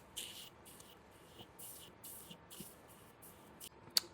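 Several soft, misty hisses of a makeup spray come in quick repeated pumps, faint and close by.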